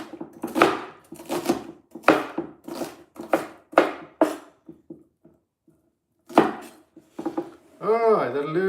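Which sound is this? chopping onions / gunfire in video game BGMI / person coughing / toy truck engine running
chopping onions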